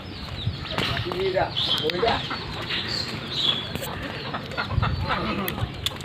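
A farmyard chicken clucking in short bursts near a pair of ducks, mixed under a person talking close by in an outdoor setting.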